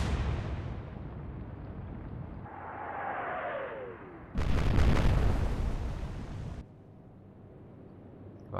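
Heavy naval guns fire high-explosive shells in the warship game Atlantic Fleet. A loud, rumbling blast comes about halfway through and holds as a thick roar for around two seconds before cutting off, with a lighter whooshing burst just before it.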